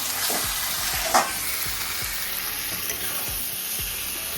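Chicken fries in a pan, nearly cooked, in a loud, steady, close sizzle with a few soft stirring knocks and one brief clink.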